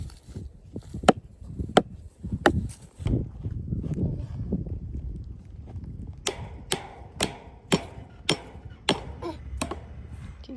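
A child hammers a nail into a wooden post, sharp irregular taps at first, then a steady run of about eight evenly spaced strikes, with low rustling and movement in between.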